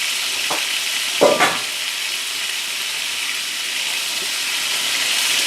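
Beef tips sizzle steadily in a hot pan, a broad even hiss with a couple of brief clinks or stirs early on, no voices.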